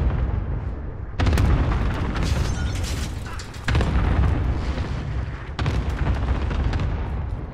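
A barrage of cluster airstrike blasts in a video game, booming in loud overlapping waves with sharp bursts at the start of each wave, near and heavy, running continuously.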